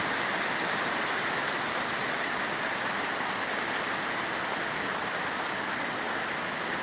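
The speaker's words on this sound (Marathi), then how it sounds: "जोरदार मुसळधार असा पावसाचा तडाखा चालू झालेला आहे" Heavy torrential downpour at the Balumama temple in Belmachi, a dense, steady roar of rain with rushing water beneath it, constant and loud throughout with no voices.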